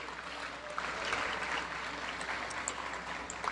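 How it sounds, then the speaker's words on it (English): Outdoor crowd at a Fourth of July community event applauding the community band, a soft, somewhat distant wash of steady clapping from many people with no voices over it. "once again, a round of applause for our community band"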